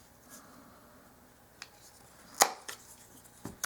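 A few sharp snips and cracks as the end is cut off a small dollhouse miniature headboard, close up and sparse, with short quiet gaps between cuts.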